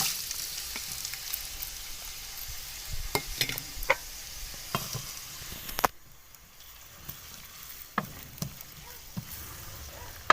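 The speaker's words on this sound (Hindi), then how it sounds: "1 कप ऑयल डाला है कढ़ाई के अंदर, ऑयल गर्म है, इसके अंदर डाल देते हैं 2 मीडियम साइज़ की कटी हुई प्याज।" Two chopped medium onions fry in a cup of hot oil in a kadai for Lahori chickpea curry. A quiet, steady sizzle runs beneath occasional spoon scrapes and knocks, and the sizzle drops briefly partway through.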